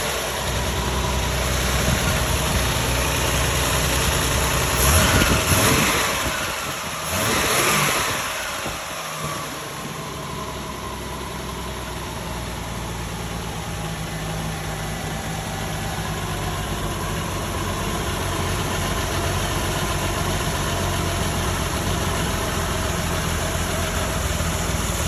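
An old, rusty Jeep CJ engine runs at a steady idle, just restarted after a starter replacement and fresh fuel, with a brief louder rumble early on before settling into a continuous low drone with no talking.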